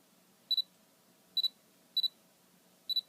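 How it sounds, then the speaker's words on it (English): Four short, high double beeps from a Canon camera confirming focus with an FD-to-EF lens adapter, spaced irregularly over a quiet background. "Whenever the object in the focus, it will beep."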